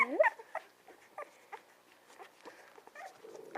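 Small puppies whimper and whine close by, with a cluster of high, wavering cries at the start and then scattered softer whines and little squeaks, without talk.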